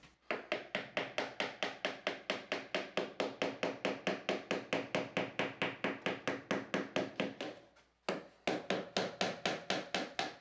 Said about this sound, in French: Lorsque la colle PU des panneaux à base de ciment est sèche, vous pouvez l'enlever avec un burin.